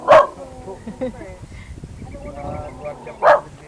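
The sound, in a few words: dogs barking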